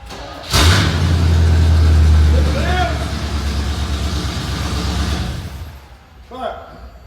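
A Toyota car engine cranks and catches, then revs and runs steadily, loud and close, with talk heard over it after it fires.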